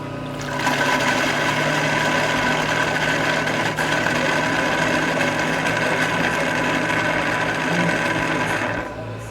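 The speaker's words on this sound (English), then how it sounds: "After mopping the floor, the robot will return to the station to automatically clean its mops" A Xiaomi Omni X10+ robot vacuum station washes its mops with a steady, loud whirring motor drone and running water. The sound holds unbroken for about eight seconds, then cuts off.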